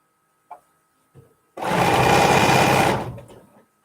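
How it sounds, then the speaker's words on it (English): A sewing machine stitching a quilt border runs in one steady, close burst of about a second and a half, preceded by a couple of small handling clicks. "I was going to sew this one on the other side to show"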